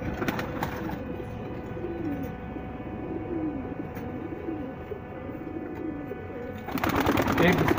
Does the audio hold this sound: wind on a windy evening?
no